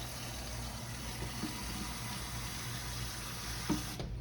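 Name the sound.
water running to fill a pot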